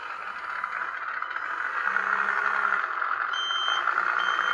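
A 1/14 scale RC Bobcat S450 skid loader's built-in sound system plays a reverse beeper, repeating electronic beeps over a continuous buzzing motor-and-gear whine, close by with no talking.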